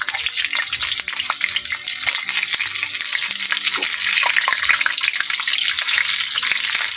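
Tofu and tempeh fry in a pan, giving a steady, close hiss of sizzling oil with scattered crackles and pops throughout, alone with no voices.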